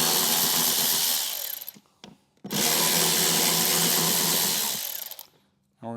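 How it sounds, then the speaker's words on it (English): A power driver backs T15 screws out of the fairing lid on a 2014-2021 Harley CVO Street Glide. It gives two loud, close whirring runs, each about two seconds long, with a short quiet gap between them. "we're gonna remove the last two screws here."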